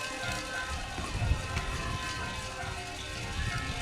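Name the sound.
heavy rain pouring down at an outdoor aquatic center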